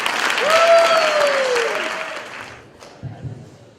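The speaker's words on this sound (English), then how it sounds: "Let's give them a round of applause." Audience at a poetry festival gives a round of applause, dense clapping swelling and then fading out over a few seconds, with a sweeping tonal sound over the start.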